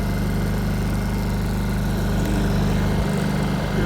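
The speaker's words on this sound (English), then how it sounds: "my Honda 2000 EU 2000i is running right now in eco throttle mode, and you barely hear it." A Honda EU2000i inverter generator runs in eco throttle mode beside an RV, giving a steady, close, low droning hum with a slight change in pitch near the end.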